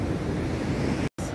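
Strong wind and breaking waves on the Phillip Island coast roar steadily and loud in a continuous wash of surf, with no talking.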